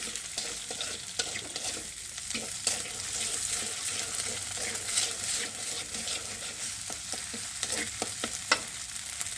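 Egg sizzling and frying in a pan while noodles are cooked, a steady broadband crackle throughout with occasional stirring scrapes, close and continuous, no talking.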